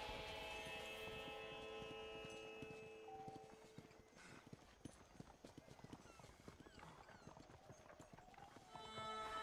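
Steady clip-clop of horse hooves trots along at an even rhythm in Red Dead Redemption, with a whinny early on and background game music and ambience.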